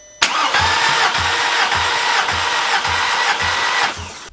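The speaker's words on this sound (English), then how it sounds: "what I want to do is do a compression test. So let's check all the cylinders" A car engine cranks over on the starter during a cylinder compression test on a newly fitted engine, with a steady, even rhythm of loud chugging pulses that runs for about four seconds with no talking.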